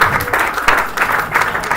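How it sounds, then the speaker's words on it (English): Audience members at a motivational event applaud themselves, a dense burst of hand clapping with pulsing swells that stays loud and close for the whole stretch, with no talk over it. "Please clap for yourself."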